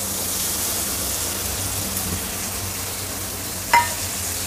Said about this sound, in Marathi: इथे कांदा आणि मिरची आपण बटरमध्ये सौते करून घेऊया.